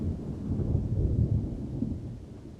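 Thunder rumbles with steady rain in a rainstorm, a deep, continuous low roll that swells in the middle and stays loud throughout, with no voices.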